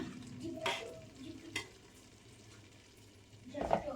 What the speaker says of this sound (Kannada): ಈಗ ನೀಟಾಗಿ ಮಿಕ್ಸ್ ಮಾಡ್ಕೊಂಬಿಡಿ